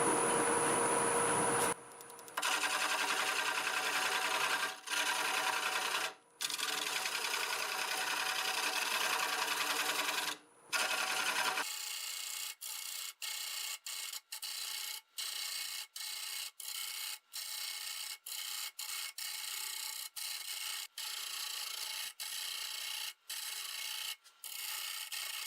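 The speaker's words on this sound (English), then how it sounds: "I'm going to switch to my small carbide hollowing tool, just so I can get a little bit deeper here before I move the tailstock." A small carbide hollowing tool cutting black walnut on a wood lathe, a steady close scraping and rasping hiss broken by brief pauses, becoming a choppier run of short repeated cuts in the second half.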